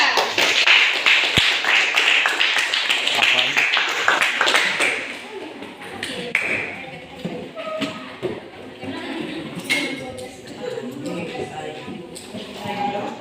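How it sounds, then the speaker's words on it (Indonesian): Classroom of students clapping for a presenting group, a lively burst of many hands for about five seconds that thins into scattered, uneven claps and taps. "beri tepuk tangan untuk kelompok 3"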